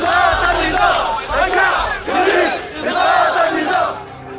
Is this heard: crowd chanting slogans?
yes